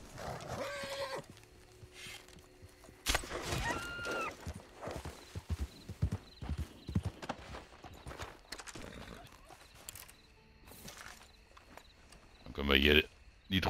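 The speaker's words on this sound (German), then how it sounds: "da wird das Pferd sofort nervös hier" Horse hooves clip-clopping with a nervous neigh from a horse in Red Dead Redemption 2, close and fairly loud in bursts, with someone talking over parts of it.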